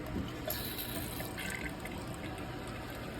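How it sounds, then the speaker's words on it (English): A shower running at low water pressure in a storm-damaged home in Nashville, Tennessee: a steady, continuous hiss of flowing water, moderately close and alone, with no talking. "Turn the shower on."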